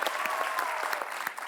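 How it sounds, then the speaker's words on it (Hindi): A studio audience at a comedy show breaks into loud, steady applause as a guest walks on, a dense continuous wash of clapping with a few cheers over it. "तो आप सबकी जोरदार तालियों के बीच इनवाइट करना चाहूंगा"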